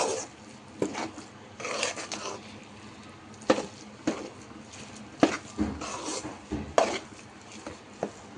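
A spoon stirs vegetable upma in a pan, irregular scraping and clacking strokes against the metal, close and fairly quiet, with no talking.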